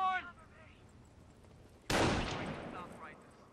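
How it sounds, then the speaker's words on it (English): MG42 machine gun in Company of Heroes, a World War II strategy game, going off in a sudden loud burst of firing and explosive impact that decays over about a second, just after a brief voice. "That MG42."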